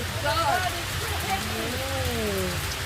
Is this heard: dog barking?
no